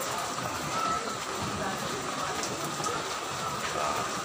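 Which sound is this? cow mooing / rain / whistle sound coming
rain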